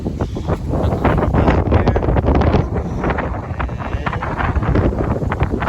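Strong wind buffets the microphone outdoors during a Minnesota deer-hunting opener, loud continuous rumbling gusts and rustling filling the whole stretch without letup.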